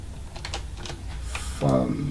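Fast, light clicking of keys on a computer keyboard while entering code, close and moderately quiet, with someone talking softly over part of it.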